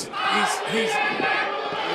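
A crowd at a live independent wrestling event cheers and shouts loudly, a dense roar of many voices filling the arena throughout.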